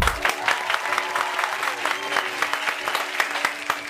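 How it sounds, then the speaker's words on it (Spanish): A studio audience on a Chilean TV talk show breaks into lively applause, dense clapping with a few sharper claps standing out, sustained at fairly close range with no voices over it. "Un aplauso para que recibamos en esta fotografía a Mino Valdés."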